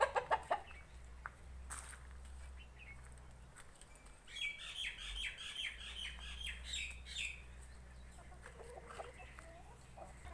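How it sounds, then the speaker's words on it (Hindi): A hen walks outdoors among fruit trees with a single chick, giving a quick run of soft clucks and chirps in the middle stretch, fairly close, with no talking over it. "ये मुर्गी जो है इसके साथ चूज़ा भी है,"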